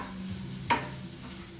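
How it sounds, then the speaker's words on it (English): Vegan sausages frying in a pan for a plant-based arroz valenciana, giving a steady low sizzle with a single sharp stir or scrape near the middle and a faint clink at the end. "Now I'm just checking in on the sausages and letting it cook. I like to hear the sizzle sound."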